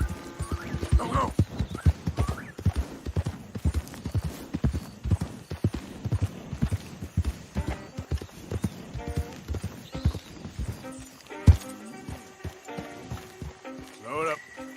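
A horse gallops through Red Dead Redemption 2 with steady, close clip-clop hoofbeats, a brief whinny near the start and a rider speaking over the running rhythm.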